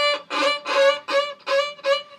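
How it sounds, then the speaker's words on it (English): A bowed string instrument plays several short, rough, scratchy strokes in a steady rhythm, close and clear with no talking. "If you do it too much, then you get scratchy sounds like this."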